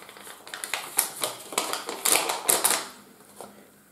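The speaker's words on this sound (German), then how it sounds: "Als erstes geben wir den Inhalt einer Tüte in das Gefäß." The contents of a packet of baking powder are poured into a container as a soft, close series of quick rustling and pattering taps lasting a few seconds.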